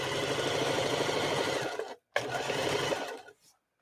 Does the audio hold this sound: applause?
no